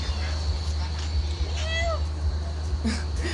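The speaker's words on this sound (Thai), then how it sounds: "แมววัดเหรอ โอ้โห" A temple cat meows several times in rising and falling calls over a steady low engine-like hum, with a person speaking nearby.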